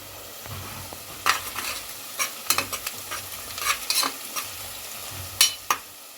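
Goat head curry frying in a pan as turmeric goes in, with a soft continuous sizzle under repeated scraping and clattering stirs of a spoon, irregular strokes at moderate volume, no talking.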